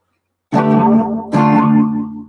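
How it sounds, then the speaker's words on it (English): Electric guitar run through an Echo Rec-style echo effect: two strummed chords, each ringing out with trailing repeats and decay, loud and close with no talking. "Then you've got the Echo Rec version."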